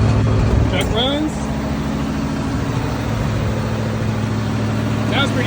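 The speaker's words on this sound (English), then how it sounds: "Very nice, smooth running truck." A Loadstar truck engine idles with a steady low rumble throughout, with a brief voice over it early on.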